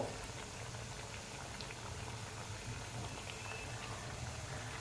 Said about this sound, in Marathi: हे वडे तळावेत